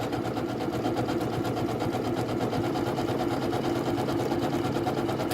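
A Janome sewing machine stitches a programmed pattern with a lock stitch, a steady, continuous fast mechanical whirr that runs close and alone with no talk.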